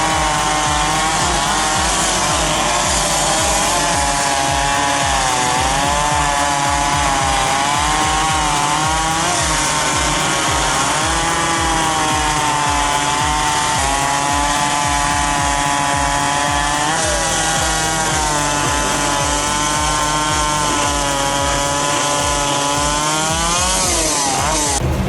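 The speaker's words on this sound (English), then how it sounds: "raw power, roaring chainsaws, and pure skill ripping through timber at full throttle." Two-stroke chainsaws roar at full throttle while ripping through timber at a lumberjack sports event, a loud, steady engine drone with rising and falling pitch as the blades bite into the logs, sustained for the whole stretch.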